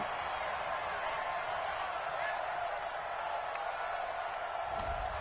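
A home crowd at a football game roars approvingly at a referee's call, a broad, steady wash of distant cheering while a commentator talks over it.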